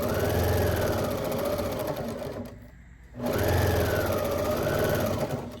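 A sewing machine backstitches seams on a one-piece, self-lining fabric bag, its motor running loud and close in two steady bursts separated by a brief pause.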